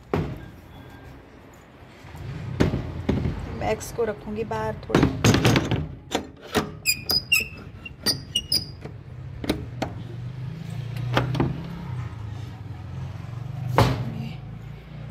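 A door being pushed shut at home gives several sharp, close thuds and knocks, scattered between stretches of someone talking to a dog.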